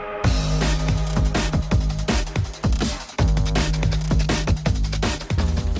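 Indie video game The Crush House by Netherworld, a 1999-style reality TV show game: a steady, loud music track with punchy drums and bass plays throughout, with a brief dropout near the middle.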